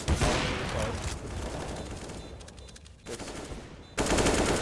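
Rapid bursts of automatic gunfire ring out in a Counter-Strike esports match, several close volleys of sharp shots with short pauses between them.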